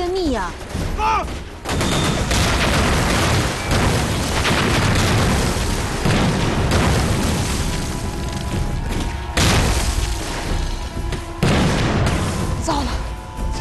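Japanese mountain artillery firing in a war battle scene: dense, repeated booms and explosions mixed with rattling gunfire, loud and continuous throughout, with a voice shouting briefly over the barrage.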